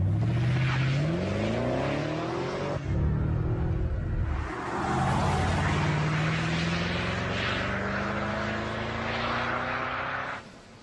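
A BMW 6 engine revs with deep exhaust rumble inside a taped-up factory sound-testing setup, climbing in pitch twice in long sweeping pulls, loud and close with no talking.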